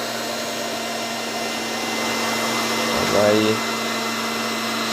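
Juicer running with a steady motor whine and hum throughout, joined briefly by a short voice near the end.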